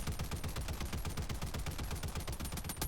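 Reprimand rifle in Helldivers 2 fired in a long, dense automatic burst fitted with a muzzle brake, vertical grip and iron sights, rapid sharp shots running without pause at steady loudness and no voices.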